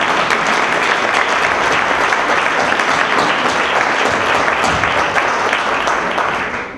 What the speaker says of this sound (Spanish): Un aplauso para Alejandro, ¿no?